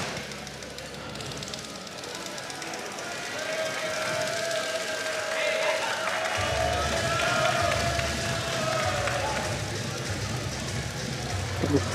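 Crowd noise at a jai-alai match in an indoor fronton, a steady murmuring roar of spectators that swells partway through, heard under someone commentator talking.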